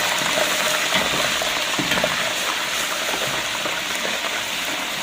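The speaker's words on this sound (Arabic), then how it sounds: "حاطين سمنه على زيت اهوت" Ghee and oil fry in a pan with a dense, continuous sizzle and crackle, close and steady, with faint stirring and no voices.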